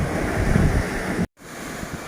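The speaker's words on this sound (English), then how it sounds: "the water's coming right up now to the tables and chairs" Storm surf floods a Koh Samui beach with a loud, steady roar of crashing waves and heavy wind buffeting the microphone, cut by a brief dropout before the rush resumes slightly quieter.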